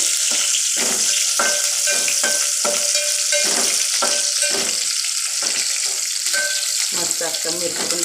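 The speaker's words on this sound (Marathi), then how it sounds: "हे बघा मिरची टाकायची लसूण भाजल्याच्या नंतर।" Green chilies tossed into hot oil after roasted garlic crackle and sizzle in a pan, with repeated bursts of stirring and scraping in an uneven rhythm, close and fairly loud.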